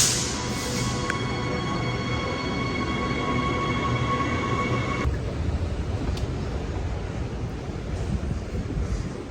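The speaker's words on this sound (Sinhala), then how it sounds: "මම දැන් ජුන්දලප් ස්ටේෂන් එකේ ඉන්නේ." A train at Joondalup railway station in Western Australia rumbles steadily, loud and close, with a high whining tone that cuts off midway, leaving a broad roar. No voices are heard.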